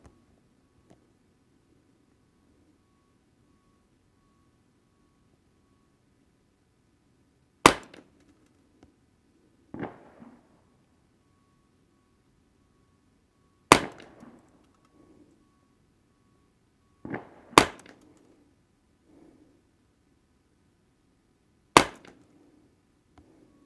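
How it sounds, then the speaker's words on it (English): A Remington 550-1 semi-automatic .22 rifle fires Winchester Super X .22 Short rounds at a target: five sharp, loud cracks spaced several seconds apart, with near silence between shots. "So we're going to shoot the middle lower target for the Winchester Super X."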